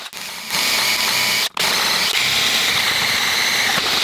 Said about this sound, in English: now I'll put in 3 holes for the stakes